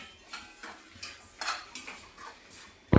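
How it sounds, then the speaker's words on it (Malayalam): Ground pepper and turmeric powders being stirred and roasted in a pan at home, with a spoon scraping and tapping the metal in short, irregular strokes, quiet apart from a sharper knock at the end. "ചൂടാകുന്നിടം വരെ ഒന്ന് ഇളക്കി കൊടുക്കണേ"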